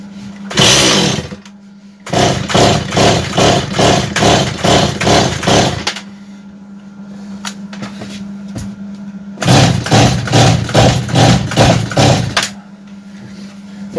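A STIHL MS180 chainsaw engine runs in loud, close bursts that choke and die back to a low idle hum, revving up twice with rough sputtering pulses before dropping off.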